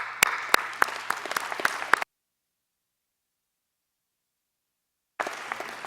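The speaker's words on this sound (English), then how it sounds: "We'd like to give you a round of applause" Applause at a procurement symposium for a construction team, many hands clapping with a few sharp, prominent claps up close, cutting off abruptly into silence and then returning faintly near the end.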